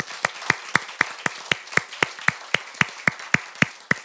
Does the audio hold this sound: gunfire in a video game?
no